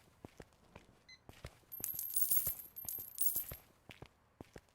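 Coins clink and drop one after another in Megastore Simulator as money pours in, a string of bright metallic taps with a brief flurry of jingling in the middle, fairly quiet overall.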